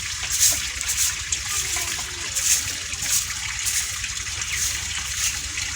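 Irrigation water flowing steadily along a field channel, a continuous gushing trickle with small splashy surges, close by and without voices.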